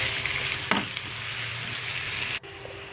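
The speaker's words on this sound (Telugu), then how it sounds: "ముందుగా దంచి పెట్టుకున్న వెల్లుల్లి రెబ్బల పేస్ట్ వేసుకోవాలి. వేసుకొని అవి ఫ్రై అయ్యేలాగా వేయించుకోవాలండి" Crushed garlic paste with a little turmeric fries in a pan with a steady, close sizzle and a brief stirring scrape, then cuts off abruptly near the end.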